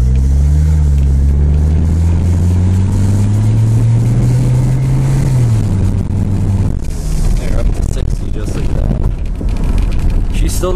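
A 1982 Mercedes 300TD turbo diesel with a straight-pipe exhaust passes by, its loud engine note climbing steadily through a long pull before dropping off as it goes past, followed by rougher, fading road noise.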